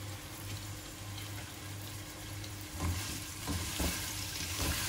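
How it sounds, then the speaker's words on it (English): Minced beef, about 250 grams, sizzling in roughly two tablespoons of oil in a pan for Iraqi meat dumplings: a constant close crackling hiss, with a few louder stirring scrapes and bursts toward the end. "she's adding the other 250 grams of minced beef."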